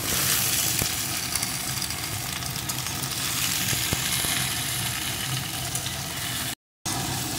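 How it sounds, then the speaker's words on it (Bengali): Malabar spinach and pumpkin stir-frying in a pan, a steady close sizzle running throughout with a few faint clicks of stirring and a brief gap near the end. "বেশ কিছুক্ষণ আমি নাড়িয়ে রান্না করে নিয়েছি"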